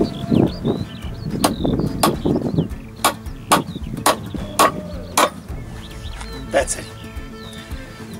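A hammer drives a nail with a series of about eight sharp metallic strikes in a loose rhythm, spoken voices at first and then fainter speech between the later blows.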